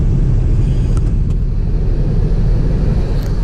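A car being driven on a cold early-morning Michigan road trip, giving a loud, steady low rumble of engine and road noise with no speech.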